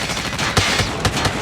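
Continuous automatic gunfire from a machine gun in a Shipment Crackdown shooter match, rapid loud bursts with sharper accented shots throughout, no talking.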